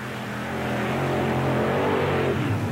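Mud racing car with a 600 cubic inch Keith Black Chevrolet engine making a run in northern Florida, a loud, steady engine roar that holds close throughout the short burst with no talk.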